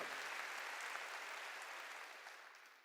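Steady church congregation applause during a sermon, faint and distant, a dense wash of clapping that holds evenly for a few seconds and tapers slightly at the end.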